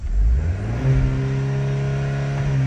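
A Cadillac CT4-V engine revs hard up to its rev limiter and holds there, a close, loud, steady mechanical drone with rising harmonics after the initial throttle blip.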